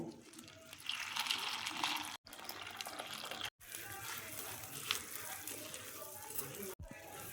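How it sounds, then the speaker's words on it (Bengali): Puffed rice being washed in water, with a continuous close rush of splashing and sloshing, broken by a few short pauses. "মুড়িগুলো আমি জল দিয়ে দেখো ধুয়ে নেব"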